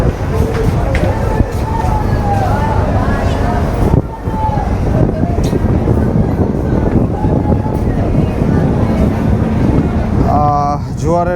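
Passenger launch MV Farhan 7 passes close behind on a river, a loud, steady engine rumble and water wash buffeted by heavy wind noise, with a horn-like tone near the end.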